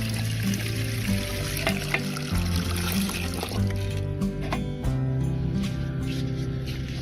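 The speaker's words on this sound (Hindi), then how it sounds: "ये इसमें पानी मिक्स करके थोड़ा सा इसमें भी डाल दिया।" Water mixed with homemade eggshell fertilizer is poured onto a plant in a steady trickling stream, heard under loud background music with a faint voice at times.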